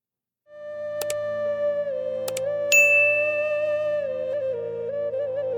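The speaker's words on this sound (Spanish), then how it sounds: "activa la campanita para recibir las notificaciones" Bright bell dings of a notification sound effect, with a few sharp strikes over a sustained ringing tone that slowly fades and wavers.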